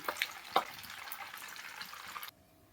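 A mixture frying in a pan is stirred, giving a soft continuous sizzle with a couple of faint scraping clinks near the start before the sound drops away.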